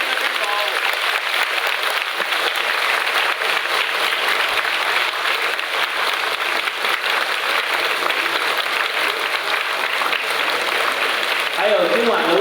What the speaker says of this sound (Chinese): 请大家起立，以热烈的掌声，我们恭送